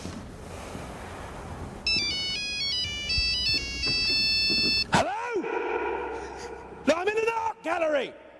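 A cell phone ringtone plays a bright, repeating electronic melody at moderate loudness for a few seconds in a comedy sketch, followed by voices talking.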